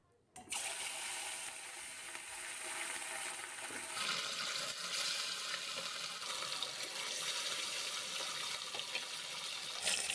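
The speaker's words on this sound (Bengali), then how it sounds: "এখন তেলটা খুব ভালো করে গরম হয়ে গেলে এবার মাছগুলো ভেজে নেব।" Rohu fish frying in hot mustard oil in a wok: a steady, loud hiss and crackle that starts abruptly and then intensifies, continuous with no talk.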